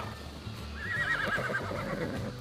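A horse whinnies in the mobile video game ARK Mobile: one clear, drawn-out neigh rising and wavering over roughly a second, heard up close over low background game noise.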